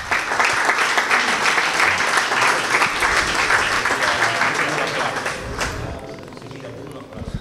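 Sustained applause from an audience at a 2015 futsal award ceremony, dense and steady clapping with crowd murmur, loud throughout before thinning and fading toward the end.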